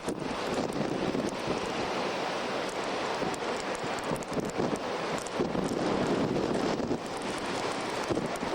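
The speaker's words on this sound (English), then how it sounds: "You can see the ocean in the distance, huge waves." Wind roars continuously with broadband surf noise from huge ocean waves crashing in the distance along a flooded coast during the December 1992 blizzard, steady and loud with gusting buffets on the microphone, no talking.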